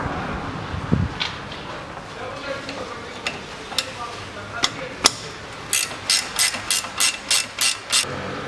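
A ratchet works loose a tie rod end nut on a 2009 Chevrolet Aveo. Scattered metallic knocks come first, then a quick regular run of about eight clicks near the end, close and clear.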